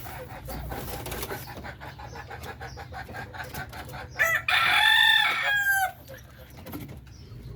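Native Filipino chickens, old breeder stock, with a rooster crowing loudly and close by for about two seconds midway, set against steady background clucking and farmyard ambience.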